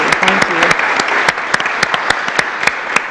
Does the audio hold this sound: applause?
yes